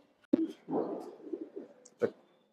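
Pigeons kept at a Bangladeshi loft, birds raised for racing and tournament flying, give soft, low cooing murmurs with a few sharp clicks and brief chirps, fairly faint and close by.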